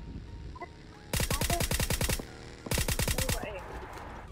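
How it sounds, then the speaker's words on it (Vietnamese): Two sharp bursts of automatic rifle fire crackle in the battle royale game PUBG Mobile, each about a second long with rapid evenly spaced shots, separated by a short pause, with faint talk around them. "Kìa, có bắn nhau kìa."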